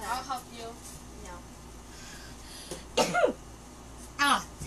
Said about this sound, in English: Ah, I had to sneeze.